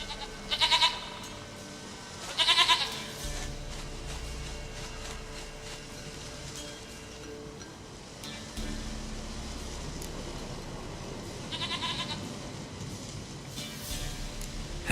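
Goat bleats in The Witcher 3 video game, two short bursts near the start and another pair later, over a steady ambient game background with no speech.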